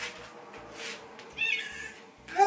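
A house cat meows indoors, a few short soft calls, the last one louder and nearer, amid faint background noise and no speech.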